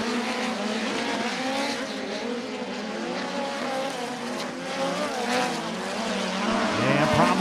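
A sprint race car on the Kokomo Speedway dirt track runs a hot lap at speed, its high-revving engine a loud, continuous wail that rises and falls through the corners, with a brief tire scrub near the end.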